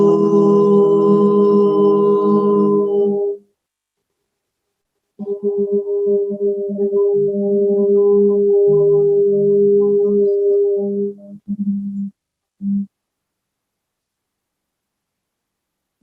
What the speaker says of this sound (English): let's wrap up the time we got to share together today with a sound of Om